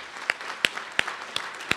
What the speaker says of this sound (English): Please join me in a round of applause as we extend a huge thanks to the sponsors of this event.